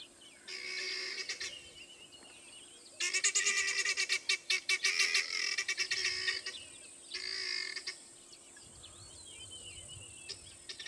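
Guinea fowl give harsh, rapid rattling alarm calls that burst out in repeated bouts, loud and close, with brief pauses between the noisy, chattering sequences.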